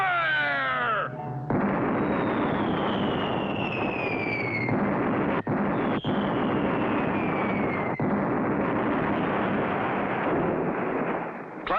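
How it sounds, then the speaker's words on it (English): Cannon fire and explosions in a Clutch Cargo cartoon pirate episode, a sustained roaring barrage with whistling shells and sharp booms, loud and continuous with no talk. "Clutch and Company hit with cannon fire."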